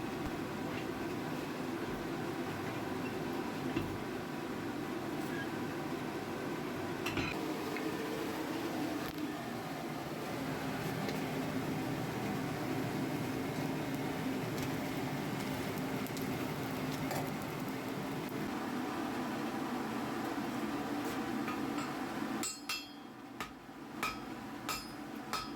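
A blacksmith hammers hot steel on a stake anvil in a shop, sharp metallic strikes rising irregularly over a steady background hum, with a clustered burst of ringing blows near the end.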